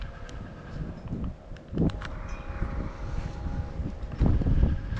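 Outdoors beside a river, wind buffets the microphone in uneven low rumbling gusts, swelling and easing over a faint steady background hum, with no one speaking.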